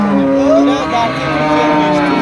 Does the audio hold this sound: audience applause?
no